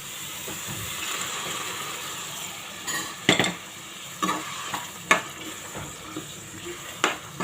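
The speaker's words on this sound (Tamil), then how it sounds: "அதையும் சேர்த்து வதக்கலாம்." Boiled chickpeas sizzle and fry continuously in a pan for channa biryani, with occasional scraping clinks of a spoon stirring, moderately close.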